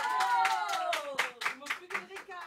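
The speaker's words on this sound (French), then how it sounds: "on applaudit Myriam, c'est parti" A live studio audience applauds a contestant on a French radio show recorded in public, with steady rhythmic clapping under cheerful talk from a host.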